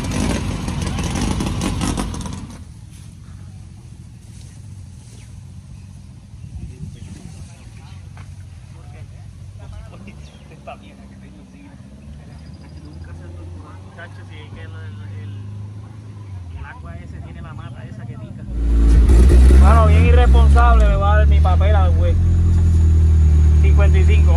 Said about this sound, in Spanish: para que vean el motor de la Toyota Picola Hot Wheels de Ivancito 7M